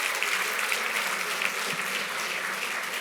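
Conference audience giving a round of applause at a live session, a dense steady wash of many hands clapping for about three seconds.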